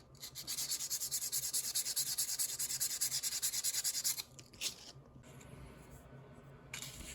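Steady back-and-forth rasping as a small wooden netsuke carving of a chestnut is filed with a rasp, dense even strokes for about four seconds, then a few scattered scrapes and quieter handling, close and alone.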